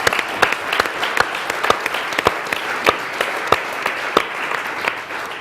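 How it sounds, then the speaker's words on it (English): Applause from a modest audience at a live talk event with contestants, distinct individual claps ringing out in an uneven, moderately loud patter throughout. "Round of applause for Richard."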